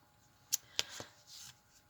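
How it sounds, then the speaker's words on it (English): Quick shuffle of a deck of large oracle cards, a few short crisp riffling snaps and soft card slides, close and quiet with no talking. "I'm going to give this a quick shuffle and pull 3 cards"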